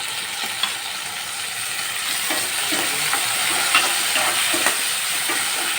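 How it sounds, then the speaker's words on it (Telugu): Tomatoes added to onions cooking in a pan for a drumstick-leaf dal, giving a steady, fairly loud sizzle with faint scraping stirs and no voices. "ఇప్పుడైతే టమాటాలు వేస్తున్నామండి ఆనియన్స్ బాగా మగ్గినాక టమోటా కూడా వేసుకోవాలి"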